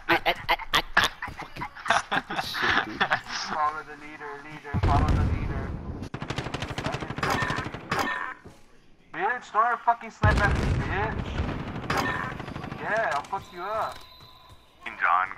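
Rapid bursts of loud gunfire from a snipers-only online shooter match crackle in irregular volleys, interleaved with brief quiet gaps while players shout over voice chat.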